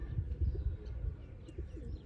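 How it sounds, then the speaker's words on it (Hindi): A pigeon coos softly and close by in low, muffled rumbling notes, a short faint murmur with light chirps in the background. "बहुत ही तगड़ा कबूतर है।"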